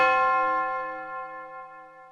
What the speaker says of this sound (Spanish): Campanas en agonía.